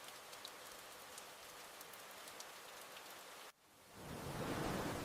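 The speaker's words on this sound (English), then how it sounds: "It starts raining lightly." Light rain falling steadily as an even hiss, quiet at first, then swelling louder and denser after a brief drop-out near the end; no voices.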